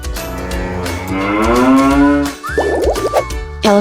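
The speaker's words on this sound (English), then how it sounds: "Cow." A toy cow's recorded sound effect gives one long, loud, close moo that rises and swells for about two seconds, followed by a short burst of springy, bouncy sound effects.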